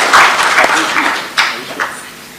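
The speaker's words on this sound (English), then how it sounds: "Let us give a better applause to Digging Vision Virtual" Audience applauding at a Kenya-Poland economic forum, a loud burst of clapping from a crowded hall that fades in waves, with a few voices mixed in.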